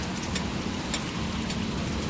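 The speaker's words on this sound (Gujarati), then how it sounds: "જો કેટલો બધો આવવા માંડ્યો છે, બહુ આવવા માંડ્યો છે વરસાદ" Heavy rain pours down steadily on a road outside, a dense, even wash of noise with faint patters on top and no pauses, heard close and without voices.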